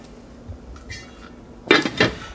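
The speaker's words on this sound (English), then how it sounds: "we're going to put that lid back on" Metal lid set back onto a pot of oxtail stew, a quick cluster of clattering clinks near the end after a faint rattle, close and fairly loud in a quiet kitchen.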